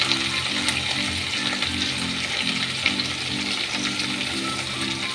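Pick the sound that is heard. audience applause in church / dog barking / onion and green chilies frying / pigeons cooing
onion and green chilies frying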